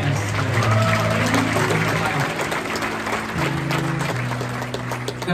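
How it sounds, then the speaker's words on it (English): Audience in a Sunday church gathering clapping for women on Mother's Day, dense steady applause running throughout with musical tones and some background voices underneath. "Can we give them a clap?"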